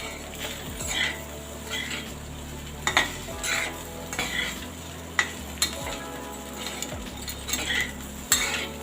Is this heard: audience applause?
no